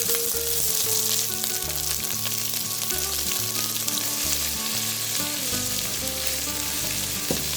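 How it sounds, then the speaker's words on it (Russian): Chopped onion sizzles in hot vegetable oil in a pot, a steady, dense crackle and hiss throughout with occasional stirring, under rhythmic background music. "В кастрюлю зальем растительного масла и в разогретое высыпаем лук."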